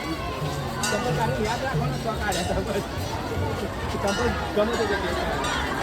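A dense crowd of devotees at the Ramapir temple in Lalpur makes a steady murmur of overlapping voices and shuffling, with nearby chatter mixing in throughout.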